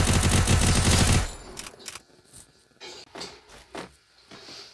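Desert Eagle pistol fire in the battle royale game Free Fire: a loud, dense volley of shots fills the first second, then several sharper, separate cracks follow more quietly against the game's background sounds.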